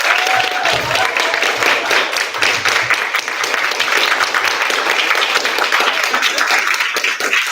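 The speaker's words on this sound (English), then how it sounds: "give all of our panelists the warmest, loudest round of applause" An audience gives panelists loud, sustained applause, with dense clapping and some cheering from the crowd throughout.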